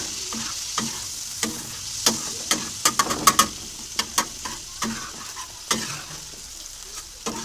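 A spoon stirs tawa chicken masala in a pan, with sharp irregular scraping clinks over a soft steady sizzle of frying, close and alone.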